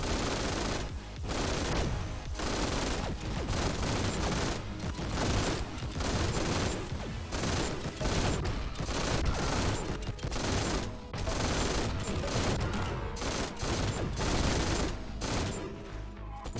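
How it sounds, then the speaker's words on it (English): Rapid minigun fire in the first-person shooter GTTOD (Get To The Orange Door), sustained loud bursts chopped by brief gaps, filling the whole stretch with no talk over it. "I think that was the minigun there."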